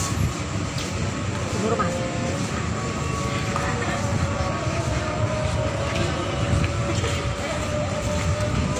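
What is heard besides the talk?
local train passing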